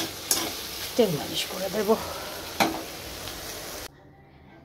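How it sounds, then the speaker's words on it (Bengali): Okra (bhindi) frying in a pan sizzles steadily, broken by several sharp stirring scrapes and clinks. The sizzling stops abruptly before the end, and a voice speaks briefly. "আর এদিকে ভেন্ডি ভাজাটা হচ্ছে"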